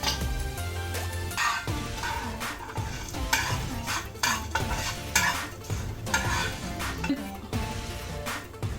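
Red chillies frying in a pan for mango rasam, a busy sizzle with stirring scrapes and clinks of a utensil against metal throughout, steady and close with no talking.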